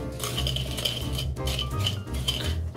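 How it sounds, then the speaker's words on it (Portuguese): A stiff metal whisk beats a sugar mixture in a bowl, making continuous scraping clinks at a steady stirring rhythm, close up, with no talk. "Aqui eu vou começar mexendo com o fouet"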